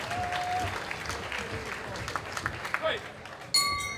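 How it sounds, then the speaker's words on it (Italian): Crowd clapping and cheering for two women fighters before a three-round Class A bout at a Rome fight club, a dense steady roar of applause with scattered whoops and a sharp bell-like ping near the end. "Fate un applauso a queste ragazze"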